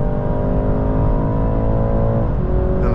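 A 2024 BMW 330i xDrive accelerates at full throttle at highway speed, its engine a loud, steady, rising drone heard from inside the cabin with a constant whir and road roar, and no voices.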